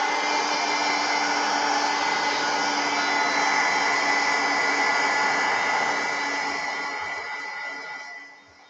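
A hair dryer blows close and loud with a steady whooshing whine while drying a watercolor painting, then winds down over the last second or so.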